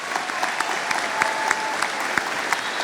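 Audience applause for graduates at a commencement ceremony, a steady wash of many hands clapping with a few sharper claps standing out, loud and close, without speech.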